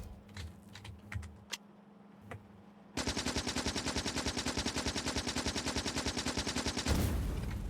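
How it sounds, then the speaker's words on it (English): Rapid automatic gunfire in the video game Factorio, a character shooting a chest holding old armor, a loud steady burst of regular shots after some quieter earlier clicks, with no talk. "Which means putting the old armor in a chest and shooting it."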